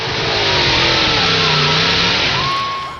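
A V8-powered chainsaw revs hard with a steady, loud mid-range engine roar, its pitch swelling and dipping over a few seconds, heard through the playback of a video with no voices.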